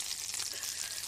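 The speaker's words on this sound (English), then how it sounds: "Sizzle, sizzle." Food sizzles in a frying pan for a moment, a faint, dense crackling hiss that holds steady with no voices over it.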